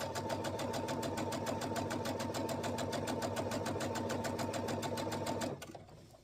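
A sewing machine runs a long straight stitch across fabric for gathering, a steady, close, rapid mechanical chatter lasting over five seconds before it winds down and stops.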